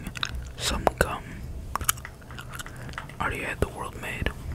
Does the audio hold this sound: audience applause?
no